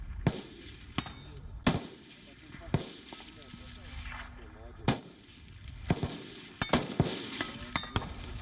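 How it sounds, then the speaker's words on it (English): Sniper rifle shots ring out at a military training ground in Russia's Ryazan region, a series of sharp distant cracks spaced a second or so apart and echoing, with quiet voices in between. "President Vladimir Putin was seen inspecting a training ground, even firing shots from a sniper rifle"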